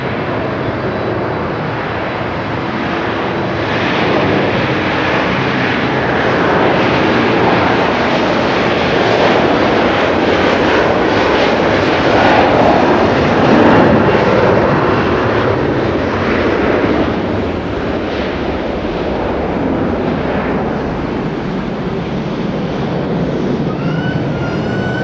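A Pikachu-liveried jet departs Haneda for Jakarta with a loud, continuous roar of engines at takeoff power, steady and broadband throughout.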